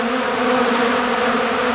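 Honeybees buzzing in February around a hive where protein feed has drawn them out: a dense, steady, close swarm drone with a low hum and no break.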